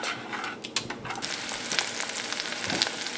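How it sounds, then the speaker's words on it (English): An egg sizzles and crackles in a hot pan, with irregular pops and spits over a steady frying hiss. "So now your egg is frying a little"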